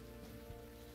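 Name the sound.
rain in video game Unavowed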